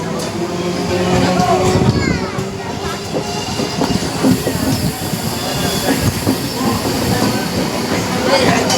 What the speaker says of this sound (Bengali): পাশ দিয়ে বয়ে যাচ্ছে লোকাল ট্রেন